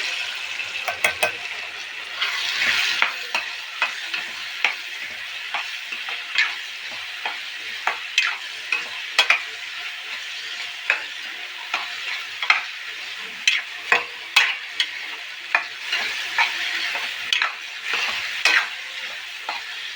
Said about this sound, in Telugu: పచ్చిమిర్చి వెల్లుల్లి జీలకర్ర దంచి పెట్టుకున్న పేస్ట్ వేసుకోవాలండి. వేసుకొని కలుపుకోవాలి.